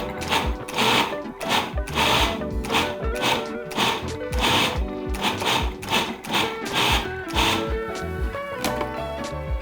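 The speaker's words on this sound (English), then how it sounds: "I'm gonna pulse it a couple more times" A food processor pulses a chickpea falafel mixture in a rapid series of short, loud motor bursts with a chopping rattle, evenly spaced and close, with no one speaking.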